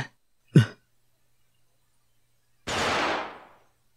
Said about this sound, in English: There were two gunshots.